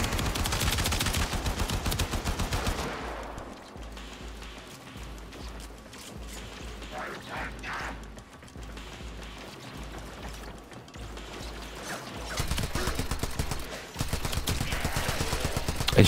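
Rapid automatic gunfire cuts down enemies in Warframe, with loud sustained bursts at the start and end and quieter rattling shots in between.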